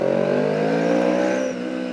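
A car engine hums steadily on the road while driving, a smooth sustained tone close by with no voices, easing slightly toward the end.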